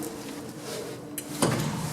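Close by, a mechanical rumble gives way to lift doors of a modernized 1980s Express elevator sliding open with a metallic scrape and a low rolling rattle.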